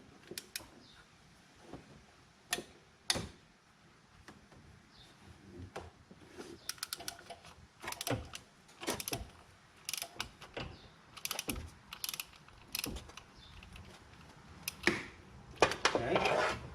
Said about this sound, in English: I'm going to try to get a ratchet onto that bolt.